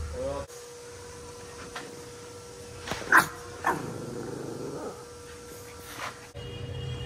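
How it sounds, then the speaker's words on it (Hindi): A dog barks a few times from an outdoor spot, short sharp yelps rising above a steady background hum, with people talking around it. "देखना अभी मिक्की कैसे भौंकेगा।"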